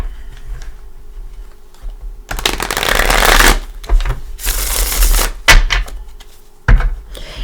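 Gilded Tarot cards shuffled in bursts of papery riffling and slapping, loud and close, broken by short pauses, with no talking.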